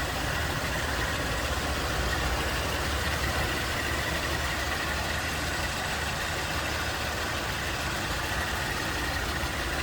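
A 1977 Ford LTD II Squire Wagon idling with its hood open, a steady, even engine rumble that holds constant throughout with no voices over it.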